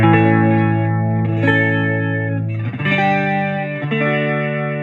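An electric guitar through a Fender Champion 20 amp's chorus effect plays sustained, shimmering chords, the doubled, wavering tone ringing loudly as the chords change.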